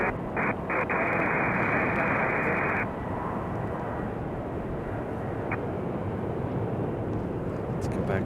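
A Copa airliner departs Raleigh Durham airport, its jet engines a loud broad continuous roar throughout, with radio crackle and someone talking over it.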